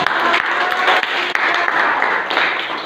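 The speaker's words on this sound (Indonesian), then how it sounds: "kita berikan aplaus untuk" A classroom group claps after a class presentation, a dense, close burst of applause that carries on steadily throughout.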